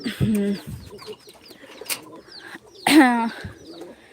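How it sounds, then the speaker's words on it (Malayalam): Several birds around a house call near the microphone, with dove-like coos and chicken clucks in short bursts, a louder cluck near the end, and faint background voices. "ശബ്ദം കേൾക്കുന്നുണ്ട് അവിടെ ചുറ്റുവട്ടത്ത് മൊത്തം ഉണ്ടാകുന്ന പക്ഷികളും"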